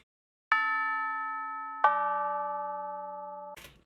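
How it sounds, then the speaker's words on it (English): Little bell samples from a beat-making sample kit, pitched to the beat: two clear, bright chimes rung a moment apart, each ringing out and slowly decaying, with a brief rattle at the end. "I had a couple little bells I wanted to throw on top of it."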